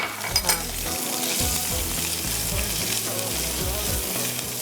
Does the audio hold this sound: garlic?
yes